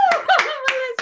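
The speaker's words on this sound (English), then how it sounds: "round of applause for Melissa" A few participants at an online comedy and public-speaking workshop graduation show clap in sparse, distinct bursts, while a loud voice whoops and cheers over the claps.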